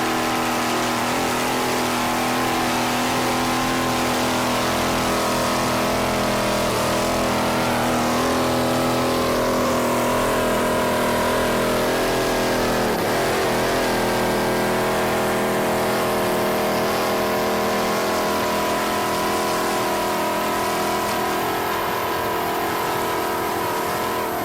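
Racing powerboat, a 24-foot skater with twin 295 hp Mercury outboards, at a Key West world championship race; a loud sustained engine drone with steady harmonic whine, briefly shifting pitch midway, with no talk.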